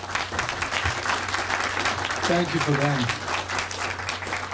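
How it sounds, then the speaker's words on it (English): An audience at a ribbon cutting ceremony for a building and grounds applauds steadily, while someone speaks briefly over the clapping. "all deserve a good round of applause."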